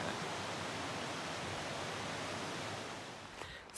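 A river far below on a cold stretch of the Continental Divide Trail near the Gila River rushes as a steady broadband wash, fading slightly toward the end.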